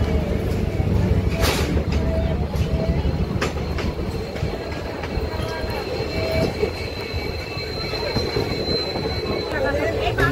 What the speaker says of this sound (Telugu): డీజిల్ లోకోమోటివ్ చాలా అంటే చాలా పవర్ఫుల్ అండి.